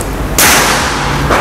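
A PCP Predator air rifle fires Hercules pellets, giving a sharp, loud crack followed by a second shot about a second later, heard close with no voices.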